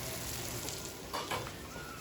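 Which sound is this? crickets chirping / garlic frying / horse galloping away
garlic frying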